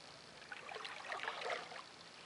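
Paddle strokes with a new Ottertail paddle splash and swirl softly through the water of a stream, a faint, close, continuous trickling with no voices.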